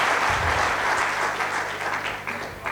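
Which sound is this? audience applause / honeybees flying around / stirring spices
audience applause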